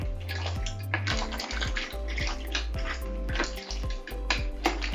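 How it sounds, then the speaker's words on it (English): Mussels stirred through a chilli and tomato broth in a cooking pot, with wet sloshing and light scraping and clinking against the pot over a steady low hum, no talking. "just give them a little stir around to get them covered in your chilli and tomato broth"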